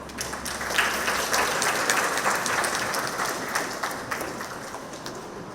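Audience applause at a community centre meeting, a dense, steady patter of many hands clapping at moderate volume that carries on for several seconds with no voices over it.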